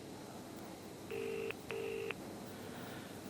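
A hospital ward payphone being dialed: two sustained dual-tone keypad beeps, each roughly half a second long, sound close and clear over a steady low background hum.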